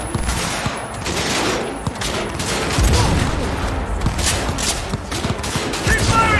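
Dense gunfire from Cyberpunk 2077 rattles throughout, rapid bursts and overlapping shots forming a loud, continuous fusillade, with a voice briefly heard beneath the shooting.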